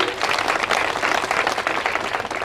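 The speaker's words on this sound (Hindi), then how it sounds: "जोरदार तालियां एक बार आप अमजद के लिए बजा दें" A dense crowd at a Congress party public-dialogue rally claps steadily and loudly for about two and a half seconds, a thick, continuous wash of hands with no pauses.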